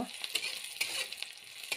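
Onions sizzle and crackle in hot oil, with a few scraping stirs cutting through the steady frying hiss; no voices.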